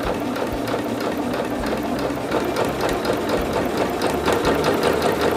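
Stitching fabric, a sewing machine runs in a continuous close rattling hum that builds in pace and intensity toward the end, with no voices.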